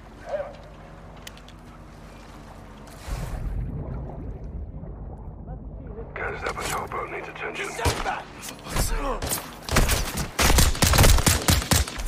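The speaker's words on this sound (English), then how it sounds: "I keep just shooting one and then I have to reload." Gunfire in the Call of Duty: Modern Warfare 2 campaign, a quiet stretch building into sharp, loud, rapid bursts of shots that crowd the final seconds.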